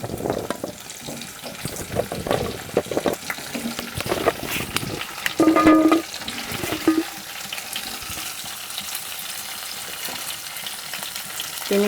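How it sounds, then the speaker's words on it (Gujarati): Drumsticks (moringa pods) fry in hot oil for a Gujarati curry, crackling and sizzling with busy stirring and clattering, loudest around the middle, then settling to a softer fry. "તેને ગરમ તેલમાં થોડુંક શેકી લઈશું."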